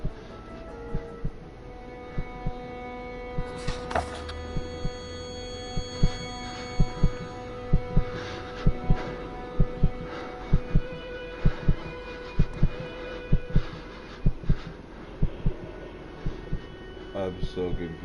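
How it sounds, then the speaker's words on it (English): A slow, regular heartbeat thumps in the video game Kona, steady low pulses repeating about once a second over a faint hum and quiet background tones. "Is this dude's heart beating?"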